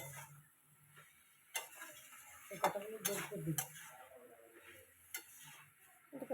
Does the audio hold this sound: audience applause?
no